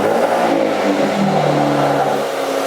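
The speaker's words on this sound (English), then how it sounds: "let's get a cold startup." A car engine running after a cold start, its idle rising and falling with revs, close and loud with no talking.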